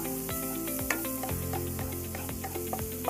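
Chopped onion with ginger-garlic paste fries in a pan, a soft continuous sizzle and hiss with faint stirring clicks, no talk.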